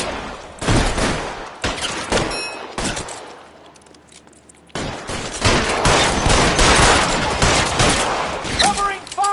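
Bursts of gunfire from a shootout with police in the 1940s Los Angeles crime game L.A. Noire, loud volleys broken by a quieter pause, with shouted voices mixed in.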